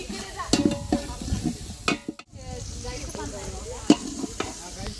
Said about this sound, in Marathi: फणसाची भाजी फोडणीत टाकली गेली आहे.